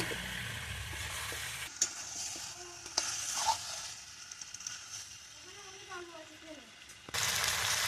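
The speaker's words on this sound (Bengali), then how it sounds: "আমার মাংসের তেল ছেড়ে গেছে, কষাও হয়ে গেছে" Chicken pieces fry and get stirred in oil in a pan for a village-style chicken and papaya dish, giving soft sizzling with scraping stirs, fairly quiet, while a person talks in the background.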